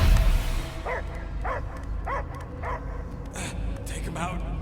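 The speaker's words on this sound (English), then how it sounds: "I hear only barking." A dog barks repeatedly in the Guardians of the Galaxy video game, a series of evenly spaced barks and yips over a low rumbling background, with game voices speaking around them.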